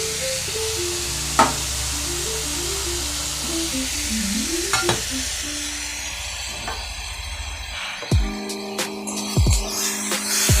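Spice masala with Kashmiri chilli, turmeric, cumin, coriander, ginger and garlic sautéing for a Bengali katla fish kalia, a faint sizzle under background music, with a few spatula scrapes and knocks near the end.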